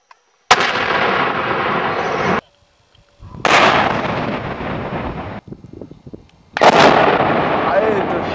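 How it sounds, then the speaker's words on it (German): Three loud blasting explosions, each a booming roar that rumbles and decays, separated by short near-silent gaps. "Sprengung."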